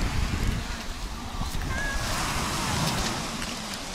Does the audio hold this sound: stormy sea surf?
yes